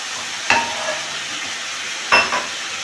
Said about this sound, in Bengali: এভাবে করে আমি কষাতে থাকব